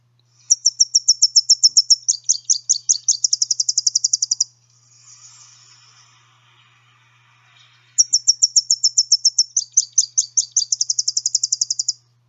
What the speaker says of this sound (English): if you do hear them, it's a very distinctive three-parted song